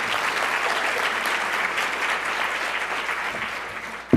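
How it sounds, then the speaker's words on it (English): Steady, dense applause from a conference audience at a lightning talk session, sustained at even loudness for several seconds and ending abruptly. "A round of applause, please."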